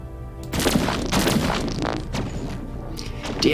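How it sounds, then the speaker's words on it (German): Rapid bursts of weapons fire crackle and boom through a space battle in Endless Space 2, dense overlapping shots at steady loudness for a few seconds, with no talking. "Die ersten Schüsse fallen."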